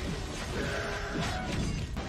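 A plane struck by an RPG crashes in a movie action scene, giving a dense, loud roar of smashing and grinding wreckage that fills the whole short stretch without pause.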